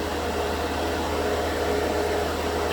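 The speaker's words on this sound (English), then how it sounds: "This is the 2D air compressor." A small portable air compressor for an airbrush, running as a constant, close, even whirring hiss with no break or talk.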